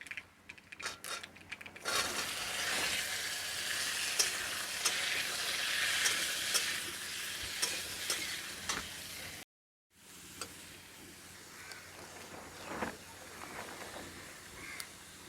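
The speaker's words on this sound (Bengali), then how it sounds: "এরপর কেটে রাখা আমগুলো তেলের মধ্যে দিয়ে দিলাম।" Chopped raw mango pieces go into hot oil with mustard seeds for a chutney, giving a loud, sustained sizzle with scraping and stirring clatter; the frying cuts out briefly, then resumes at a lower level.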